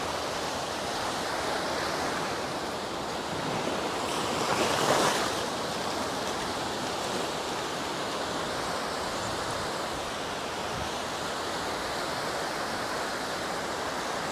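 Choppy sea waves wash and churn steadily off an Andaman island shore at Neil Island, a continuous broadband roar with one slightly louder surge partway through, mixed with some wind and no voices.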